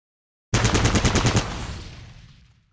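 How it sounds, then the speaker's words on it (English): Automatic gunfire at a training dummy in the video game Fallout Tactics, a single rapid burst of about eight shots that ends in a ringing, fading echo. "Target the dummy, and left-click to fire at it."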